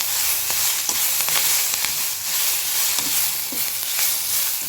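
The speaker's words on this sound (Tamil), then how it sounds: "இப்போ இதை நல்லா வதக்கிக்குவோம்" Pirandai (adamant creeper) chutney ingredients sauté in a hot pan, a steady close sizzle and hiss with occasional light scrapes and stirring taps throughout.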